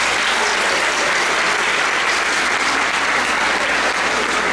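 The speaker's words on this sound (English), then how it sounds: "Let's give him a round of applause." An audience at a middle school awards ceremony bursts into loud, sustained applause, a steady wash of many hands clapping with scattered cheers and no speech on top.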